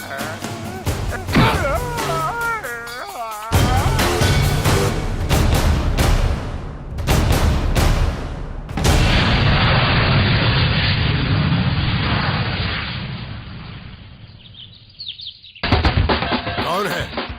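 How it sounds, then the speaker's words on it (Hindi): Bomb blasts go off in a British major's house during a dubbed South Indian action film scene, with heavy booms and crashes in bursts alongside dramatic music and brief bird-like chirps. "इस ब्रिटिश मेजर के घर में बम के धमाके कर रहा है?"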